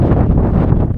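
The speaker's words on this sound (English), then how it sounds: "It's 9 a.m, it's really windy" Strong gusting wind buffets the microphone on a rainy morning during a multi-day hike in the Bauges Massif, a loud, continuous low roar with no voices.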